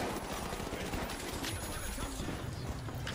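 Loud, rapid gunfire in The Finals rattles continuously in sustained bursts, dense and close, with no clear pauses.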